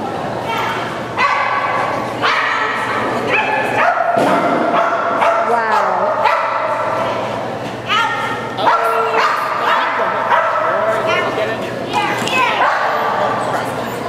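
Repeated close barks and high yips come from an athletic dog running an outdoor course with a tire obstacle, mixed with excited voices and children's chatter throughout.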